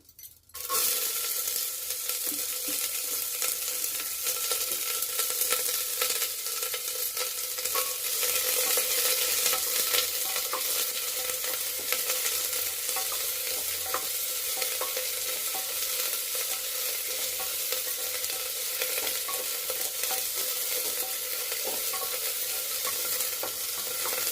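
Onions frying in a pan for a veg mutton dish make a continuous, fairly loud sizzle and crackle that holds steady for the whole stretch, with occasional faint stirring and no voices.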